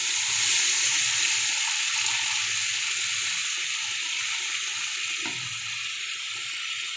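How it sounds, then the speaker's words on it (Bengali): Water is added to a pan of cooked-down fish masala for a ginger-cumin bhola fish curry, a steady close hiss and gurgle of liquid hitting the hot spices that continues throughout. "আমি অল্প করে জল দিয়ে দিচ্ছি।"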